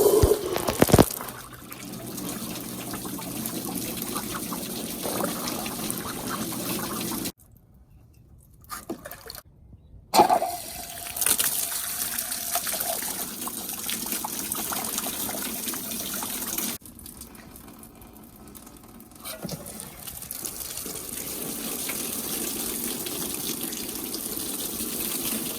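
Water rushes from an opened valve on a split pipe of a portable damage control trainer, a loud continuous gushing spray that cuts out briefly twice before resuming steadily.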